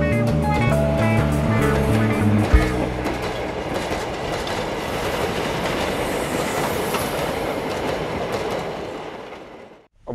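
A narrow-gauge railway salon car rolls along Upper Silesian tracks, a loud close rumble with rhythmic clickety-clack of wheels over rail joints, settling into a continuous roar before fading out at the end.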